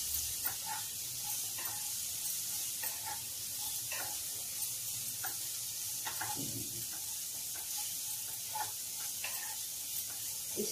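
Turmeric, ginger and chili stir-fried in a pan over medium heat, a faint low sizzle broken by light, irregular scrapes and taps of a spoon, with no talk.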